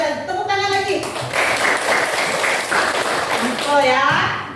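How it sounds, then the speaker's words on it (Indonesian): Children in a classroom clap together in a dense, continuous burst of applause, with voices speaking over it at the start and end. "Tepuk tangan lagi."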